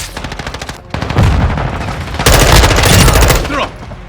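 Loud, sustained automatic gunfire in Call of Duty Modern Warfare 2 multiplayer, rapid bursts overlapping into near-continuous rattling with a brief gap early on and a heavy final volley.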